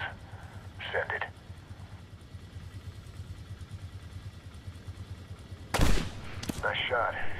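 A sniper rifle shot in Medal of Honor (2010) booms sharply near the end, followed by a second crack, amid a low steady rumble and brief bursts of radio chatter.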